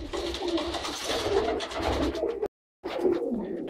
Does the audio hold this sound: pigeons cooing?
yes